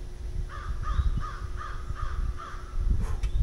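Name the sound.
bird calling outdoors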